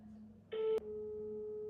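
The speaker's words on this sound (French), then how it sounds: "Pourquoi ça a changé de sonnerie, je comprends pas." A telephone line gives a busy signal: a brief tone, then a steady, quieter continuous beep over faint background noise, with no voices.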